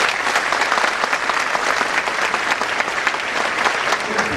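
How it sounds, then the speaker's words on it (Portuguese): A concert audience applauds a military fire brigade band's conductor in Rio de Janeiro, a dense, steady wash of clapping filling the whole clip at full loudness. "pedimos uma carinhosa salva de palmas"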